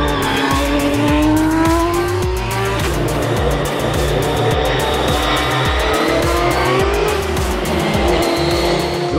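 A race car charges up a competitive hill climb at Baba, Slovakia, loud and close, its engine rising and dropping through rapid gear changes with tire squeal.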